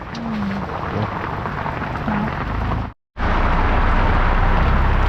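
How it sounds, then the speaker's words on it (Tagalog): Heavy rain pours down steadily in a dense, loud hiss that fills the scene, cutting out briefly to near silence before resuming just as strongly. "Malakas yung ulan, grabe."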